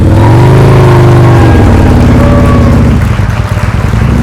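A motorcycle engine at slow riding practice, blipping the throttle. Its loud, close hum holds steady, dips in pitch partway through, then settles into a rougher drone, and no one speaks over it.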